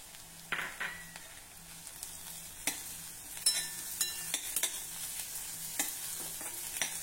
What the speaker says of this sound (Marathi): मध्यम ते मंद आचेवर आता हे छान हलक्या तांबूस रंगाचं होईपर्यंत आपण परतून घेऊ